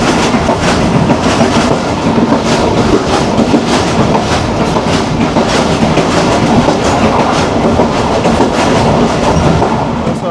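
A Pakistan Railways train rolling along the tracks at about 65 km/h, heard from the guard cabin: loud, steady rumble with rapid clickety-clack of wheels over rail joints throughout, no talk.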